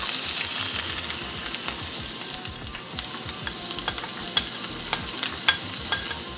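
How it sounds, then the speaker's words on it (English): Onions sautéing in a pan for a vegan Jamaican patty filling, giving a loud, continuous close sizzle with scattered crackles and soft stirring scrapes throughout. "we're gonna saute a little bit"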